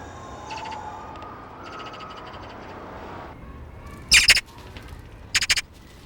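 Magpies in a Korean city apartment area give two short bursts of harsh, rasping squawks over steady low urban background hum, with fainter thin calls earlier.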